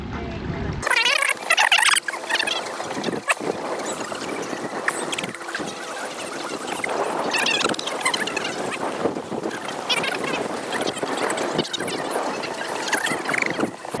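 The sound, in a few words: small boat motor spinning fast in circles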